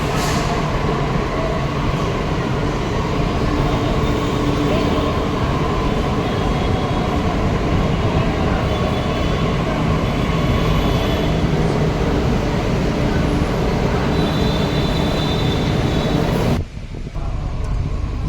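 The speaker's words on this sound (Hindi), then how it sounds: "और फिर थोड़ी देर में हमारी तीसरी मेट्रो आ गई" A Delhi metro train pulls in and runs on, its loud steady rumble and whine filling the space without pause before cutting off abruptly near the end.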